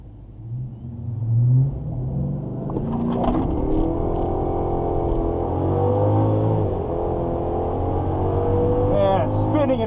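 A supercharged all-wheel-drive Dodge Charger launches at a quarter-mile drag strip, a deep rumble swelling into a loud rising roar as all wheels spin, with a brief scraping whine, close and dominant, and some talk in the background.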